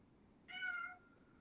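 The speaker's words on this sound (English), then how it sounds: "You got a cat." A domestic cat gives a single soft, faint meow of about half a second against a quiet background hiss, heard alone with no one speaking.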